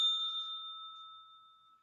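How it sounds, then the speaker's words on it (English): A small bell gets a single ring, a clear bright ding that rings on and slowly fades over nearly two seconds in a quiet room. "Forgot my bell was over here."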